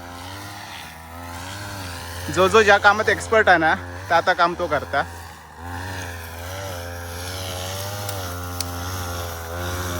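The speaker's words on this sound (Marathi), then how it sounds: "ती वाट ग्रास कटर मारून साफ करता सुमित." A motorized grass cutter clears a path leading to a deity's shrine during Holi preparations in a Konkan village, its steady engine drone running continuously beneath people talking.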